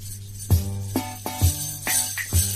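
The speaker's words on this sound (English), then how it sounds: "That's the sound of the omnichord." Soft, chiming omnichord notes plucked one after another at an unhurried pace, each ringing briefly over a low sustained drone.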